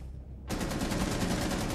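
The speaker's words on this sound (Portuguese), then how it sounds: "Nossa, tá lá trocando tiro ainda." Rapid gunfire bursts in a Rainbow Six Siege match begin after a brief quiet and continue as a dense, loud, steady stream of shots with no voices over them.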